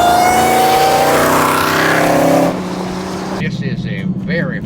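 A 1000 HP Dodge Demon 170 accelerating hard, its loud engine note climbing and roaring up close, then dropping away as a voice talks over the fading drone.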